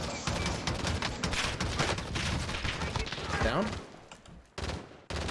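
Bursts of automatic gunfire in an online multiplayer shooter game, firing in repeated volleys while players talk over it, then the shooting stops and trails into a brief lull.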